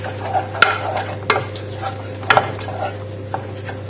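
Cheese being stirred into tomatoes and peas in a pan for a vegetarian lasagne, with a spoon scraping and clinking against the pan at irregular intervals over a soft, steady sizzle.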